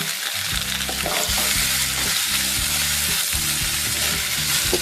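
Onion, curry leaves and salt sautéing in a pan for a clam meat and potato curry: loud, steady frying sizzle with rhythmic scraping and stirring strokes repeating throughout, no talk.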